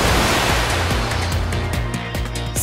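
Ocean surf in an animated surfing series, a loud, continuous wash of breaking waves and rushing water filling the scene, with no voices.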